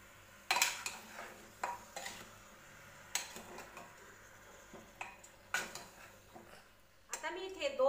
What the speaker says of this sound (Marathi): आता आपण याला तेलामध्ये चांगले मिक्स होईपर्यंत होऊ द्यायचे आहे।